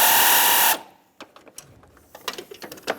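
A ratchet working a bolt loose on the alternator of a Lexus ES300 gives a fast, close run of clicks at first, then scattered slower ratcheting ticks and small metal taps.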